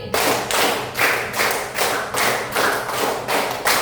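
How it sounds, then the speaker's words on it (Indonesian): Students in a classroom clap in unison through a rhythmic pattern of five claps done twice, roughly ten steady, close bursts of many hands with no talking. "tepuk 5 2 kali"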